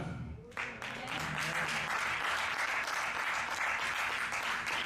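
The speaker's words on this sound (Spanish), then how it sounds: "Un aplauso al Señor" A church congregation breaks into applause that rises quickly after a moment of talk and holds as a dense, steady roar of clapping.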